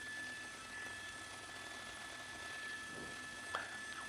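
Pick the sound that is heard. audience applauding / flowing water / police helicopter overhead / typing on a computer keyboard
police helicopter overhead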